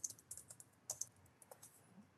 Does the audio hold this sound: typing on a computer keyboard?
yes